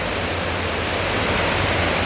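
Heavy rain pours steadily over floodwater covering a home area, a dense, even broadband hiss with no gaps, close and loud throughout.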